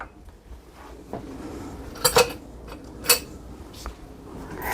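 Sausage casserole ingredients, including onions, are mixed in a bowl with a spatula, giving a few sharp clinks and taps over a quiet, muffled stirring background.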